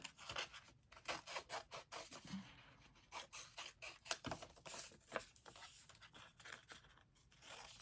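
Scissors snip and rub at a paper sublimation transfer for an MDF graduation plaque, producing quiet, rhythmic cutting and rustling sounds close by.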